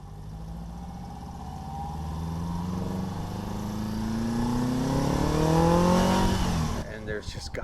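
A Subaru-engined Speedster revs up steadily, its pitch climbing through successive gear changes as it accelerates, loud and close, with a voice speaking over it.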